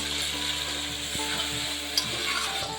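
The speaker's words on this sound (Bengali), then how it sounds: "কাজু পোস্ত দিয়ে সুন্দর করে ভেজে নিচ্ছি মশলাটা" Poppy seed and cashew paste frying in oil in a pan for a fish curry, a steady soft sizzle with faint stirring scrapes and light taps, fairly quiet and without talk.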